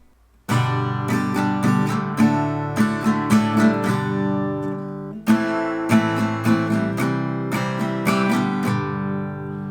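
An electric guitar played with a Jim Dunlop Americana pick runs through chords and single notes, ringing clearly on its own with a darker tone, no voices.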